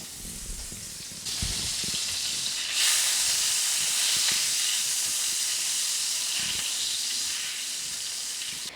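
Margarine, about half a stick, melting into a couple tablespoons of cooking oil in a skillet, giving a steady close broadband hiss and sizzle that swells after the first second and holds throughout.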